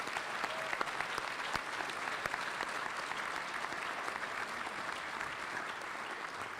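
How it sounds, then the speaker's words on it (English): Steady applause from an audience at an awards ceremony honoring a longtime community television mentor, dense and even clapping sustained throughout without speech. "How about a round of applause for Doris and everything she's done?"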